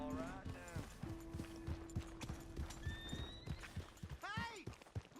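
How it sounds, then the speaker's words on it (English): A horse in the Western game Red Dead Redemption 2 whinnies loudly at the start and again near the end, with steady clip-clop hoofbeats on the ground in between and a man calling out over them. "Hey! My horse!"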